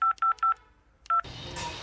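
Telephone keypad dialing: four quick touch-tone beeps in steady rhythm, a short pause, then a fifth beep, followed by a soft hiss of line noise, close and clear.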